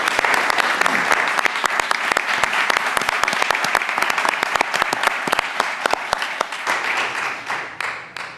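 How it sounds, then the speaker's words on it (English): A board of commissioners meeting audience breaks into steady applause, dense clapping from many hands filling the room for several seconds before tapering off at the end. "if you guys would join me in giving Carolyn a round of applause"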